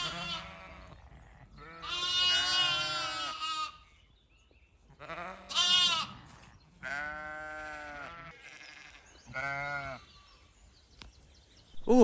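Shorn ewes at a shearing, some of which have had lambs, bleat loudly and repeatedly in close, drawn-out calls separated by short pauses.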